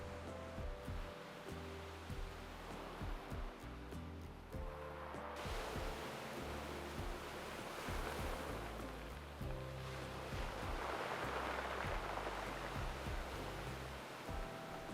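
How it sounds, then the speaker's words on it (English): Waves washing onto a shingle beach on the Mediterranean coast near Nice, a steady broadband rush that swells and recedes continuously for the whole stretch, with no voices. "listening to the waves."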